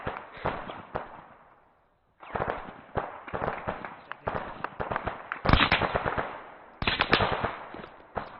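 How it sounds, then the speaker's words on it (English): Gunfire in a military simulation game, with rapid cracking bursts of rifle and machine-gun shots, a brief lull, then renewed volleys and sharp close reports. "Shots coming from the hillside."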